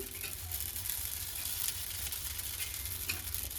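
Poppy seeds and grated coconut frying in a pan for a mutton gravy, giving a continuous, even sizzle with fine crackling throughout, close and steady with no talking.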